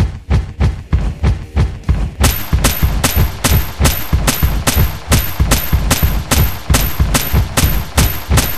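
Rapid gunfire from the mobile game Limo Robot City Wars, a relentless, evenly spaced stream of loud, punchy shots with deep thumps, continuing without pause and no talking.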